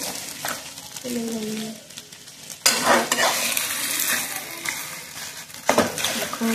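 Hilsa fish head cooking with taro greens in a pan, sizzling as a utensil stirs and scrapes, with sharp metallic clatters punctuating the frying and a voice briefly heard underneath.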